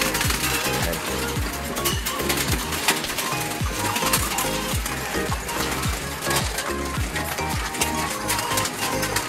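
Pigeons in a loft, both stock birds and young birds, make a dense, continuous mix of cooing, shuffling and fluttering that stays loud and close throughout.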